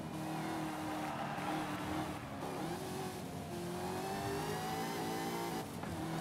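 A Cadillac CT5-V Blackwing's 6.2-litre supercharged V8 in the video game Forza Horizon 5 gives a deep, loud engine roar with a steady revving drone throughout, rising and falling slightly in pitch, close and continuous with no talking.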